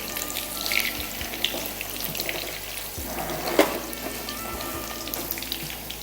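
Soya pakoda frying in hot oil, a steady crackling hiss that runs without pause, close and moderately loud, with a few small knocks and clinks over the top.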